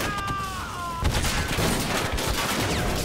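Rapid gunfire bursts from a machine gun nest in the Army Men of War toy soldier video game, loud and dense with overlapping shots and crackle after a brief electronic tone, filling the scene with no talk.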